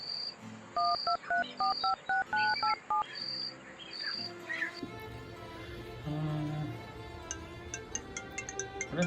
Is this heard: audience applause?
no